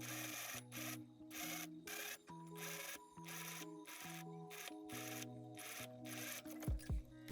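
A sewing machine stitches piping onto a dirndl bodice at a 1 centimeter seam, bursts of rapid rhythmic whirring broken by brief pauses, close and distinct, with no talking.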